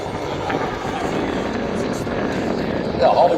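A stunt helicopter flies surface-level aerobatics at the Abbotsford International Airshow, its rotor and engine a steady mid-distance drone that swells louder near the end.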